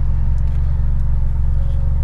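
A Mitsubishi Lancer Evo X engine revs steadily to 4,000 RPM and holds there in a loud, close, continuous drone with a deep rumbling low end, without speech.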